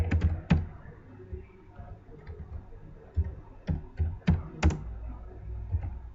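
Someone types C function code on a computer keyboard, irregular bursts of crisp, close key clicks with short pauses between groups.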